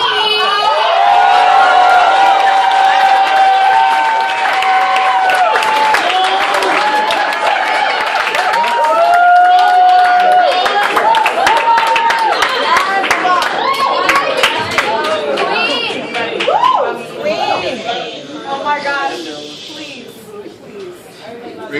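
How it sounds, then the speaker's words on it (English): An audience at a poetry slam final at AS220 in Providence claps and cheers loudly and continuously, with whoops and shouting voices over dense applause that thins toward the end. "please clap so loud for Subby"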